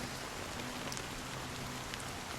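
Steady rain falls in the video game Honkai Star Rail, a soft, even hiss of drops on a surface with no pauses, faint and continuous in the background.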